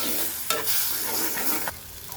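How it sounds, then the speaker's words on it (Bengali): Spices sauté with coconut and almond milk in a pan, giving a close, continuous sizzle with a few quick stirring scrapes over about two seconds. "কষিয়ে নিই"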